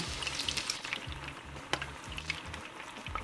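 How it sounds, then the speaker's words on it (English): Raw pork sizzling as it fries in a pan, a soft steady crackle with rhythmic scraping and stirring bursts, close up and fairly quiet. "Remember, the pork is raw, so you want to make sure both sides are brown color like this."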